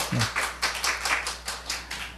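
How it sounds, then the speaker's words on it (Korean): A church congregation at a Seoul morning service claps in slow, evenly spaced single claps, about six distinct beats. A brief voice sounds at the start, and the clapping carries on alone. "우리 하나님께 박수 올려드려요."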